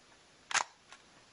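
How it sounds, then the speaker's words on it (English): A Zorki 4K vintage rangefinder camera fires its shutter, giving one sharp, close thwap followed a moment later by a fainter second click, against a quiet background. "you hear that shutter sound"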